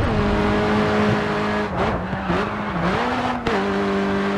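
A racing car in the video game Grid 2 holds a steady engine drone, then dips and wavers in pitch as it slides and skids through corners before recovering its tone.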